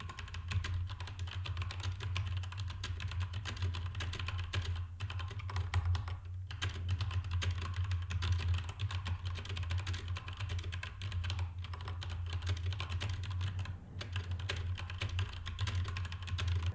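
Rapid, continuous clicking of fingers typing on a computer keyboard during a typing lesson, fairly quiet and steady over a low background hum.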